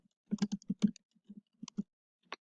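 Keys tapped on a computer keyboard in short, uneven bursts, crisp individual clicks with gaps between them, close but quiet, with no talking.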